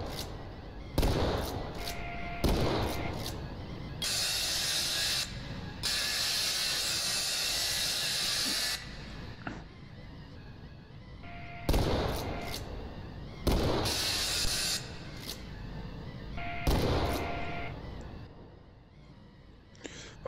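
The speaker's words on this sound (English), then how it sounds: "It's a shotgun." Shotgun fire in a first-person shooter, heard as sharp, loud blasts at irregular intervals, some followed by long hissing noise bursts, with quieter gaps in between.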